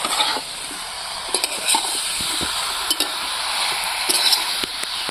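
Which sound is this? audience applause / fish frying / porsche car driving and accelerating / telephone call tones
fish frying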